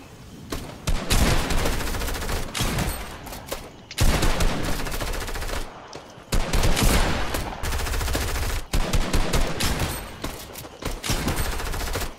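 Rapid bursts of gunfire from shooting bots in a Fortnite creative match, loud and dense volleys repeating across the stretch with brief gaps between bursts.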